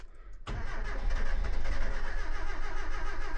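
A 1980 Mitsubishi L200 pickup with a 4G32 engine and carburettor trouble cranks on a cold day, the starter churning steadily and loudly for about three seconds without the engine catching, close to the microphone.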